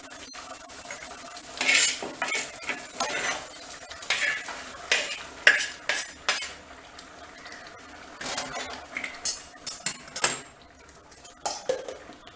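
Masala is tipped into a pan of bitter gourd sautéing in oil and stirred briskly: metal spatula clanks and scrapes against the pan in uneven bursts over a soft sizzle, close up, with no speech.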